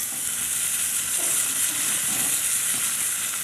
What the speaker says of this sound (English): The browning of the meat takes about 8 to 10 minutes.